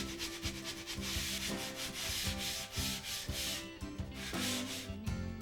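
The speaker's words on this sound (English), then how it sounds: "lightly block sand the face of both mating surfaces" A sanding block scrubs across foam model-aircraft wing surfaces in quick, continuous back-and-forth strokes, close and steady with a rhythmic rasping texture and no talking.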